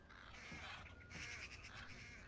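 A crow in the video game Thief caws in a few quick, faint calls over a constant hiss of ambient game sound.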